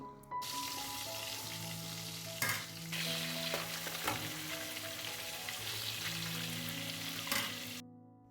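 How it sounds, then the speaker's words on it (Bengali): Steady sizzling of catla fish pieces frying in a hot pan, continuous and close, with a few brief clatters of a utensil stirring along the way. "এখন মাছটা ভাজছি"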